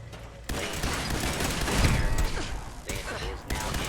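Bursts of gunfire in Fallout 4 as a turret is shot at, a rapid fusillade of shots with mechanical clanks, loud and close, broken by short pauses.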